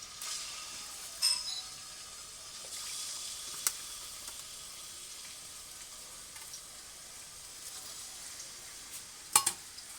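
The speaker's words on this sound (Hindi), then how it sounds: "अब हम इसमें चिकन डाल देंगे।" Chicken frying in oil in a karahi gives off a soft, steady sizzle and hiss, broken by a few brief louder pops and clatters.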